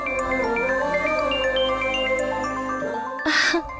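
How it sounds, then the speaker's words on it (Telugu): A phone ringtone sounds in a Telugu TV serial, a loud melodic run of chiming notes over a sustained tone, with a brief voice near the end. "నాకెవరు ఫోన్ చేస్తున్నారు?"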